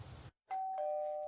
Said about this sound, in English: Doorbell Now rang.